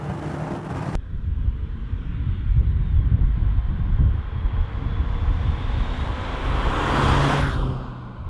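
Engine and road noise from inside a cheap, roughly 300-pound used Mercedes-Benz on the move, a steady droning rumble with tyre roar that swells and eases, continuous and fairly loud, with no talking.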